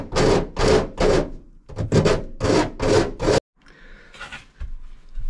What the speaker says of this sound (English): take your file and file up all these little sharp edges just to make sure it doesn't pierce that trim